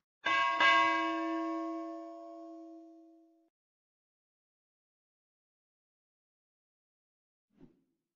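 A bright notification bell chime rings out once, loud and clear, its tones fading over about three seconds, followed by silence and a faint short thump near the end.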